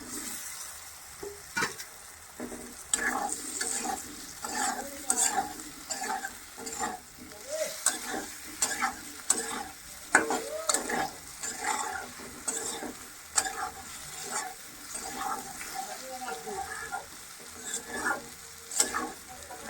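Pre-fried potatoes stirred into a sizzling pan with paneer, a soft, fairly quiet frying hiss broken by repeated scraping and clinking strokes of a spoon against the pan.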